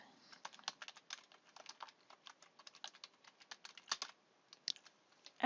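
Typing 'internships available' on a computer keyboard: a steady run of quick, light key clicks in an uneven rhythm, close and faint, ending with a louder tap, with no talking over it.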